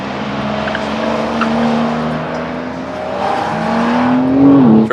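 A Porsche is driven through a cone turning exercise: a steady, fairly loud engine drone with rising pitch as it accelerates, ending in a brief tire squeal and a sudden drop in revs.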